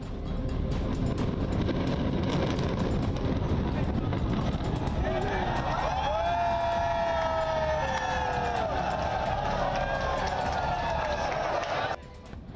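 A siren wails and sweeps up and down beneath loud, dense crowd noise and chatter that never lets up, at the Noida Twin Tower demolition in Sector 93A.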